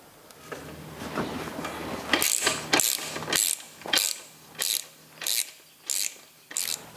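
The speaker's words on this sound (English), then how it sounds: "then tighten the clamp bolts" A ratchet tightens the clamp bolts on a Cannondale bicycle, giving a run of about eight crisp ratcheting bursts in a steady rhythm, close and clear with nothing else heard.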